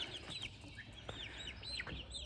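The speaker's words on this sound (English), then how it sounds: "I've got all the hens inside right now" Hens and young geese in a morning coop give repeated soft clucks and brief chirpy calls, close and steady with no talking over them.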